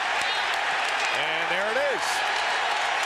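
A 2001 NBA playoff arena crowd at a 76ers vs Bucks game jeers Sam Cassell after a technical foul, a steady, dense roar with a commentator speaking over it.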